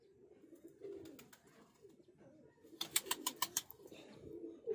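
Soft, low pigeon cooing in winter repeats in gentle phrases, joined by a quick run of sharp rhythmic flutters or taps, fairly close and quiet.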